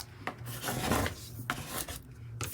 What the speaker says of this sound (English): We're gonna flip it over, burnish on the back a little bit, make sure we're really onto that transfer tape.